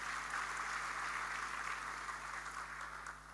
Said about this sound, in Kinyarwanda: Let's clap to the Lord for that.